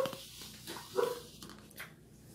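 A dog gives a few short, muffled barks indoors, faint and somewhat distant against a quiet room.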